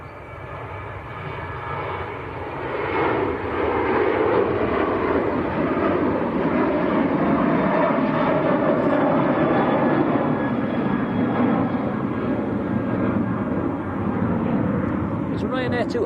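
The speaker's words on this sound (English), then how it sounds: "It's Ryanair to Alicante." A Ryanair Boeing 737, about 21 years old, passes at Manchester Airport. Its engine roar swells and holds as a broad, steady rumble, loud but outdoors, and fades toward the end.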